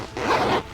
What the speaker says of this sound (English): the zipper is already broken